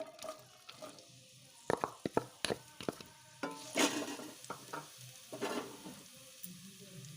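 Onion frying in a couple of spoons of oil in a pan: a faint, crackly sizzle broken by scattered spatters and scraping strokes of stirring, quiet and without talk.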